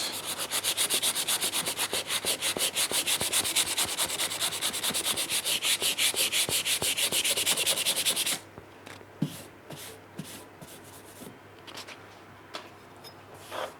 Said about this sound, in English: And then just a quick rub over with, this is a 120 grit.